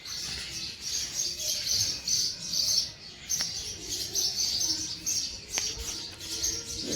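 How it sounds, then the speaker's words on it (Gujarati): Sparrows chirp and twitter through the morning air, making a busy stream of quick high calls with short flutters in between, fairly close and with no voices. "ચકલીઓ તો આ સવારની પકડમ પકડી રમતી હોય એવું છે આજે."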